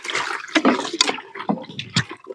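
Raw chicken being washed under water, with close, continuous splashing and sloshing that rises and falls in several surges.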